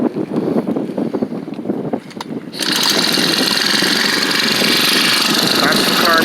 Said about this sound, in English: Here, we'll start it up again.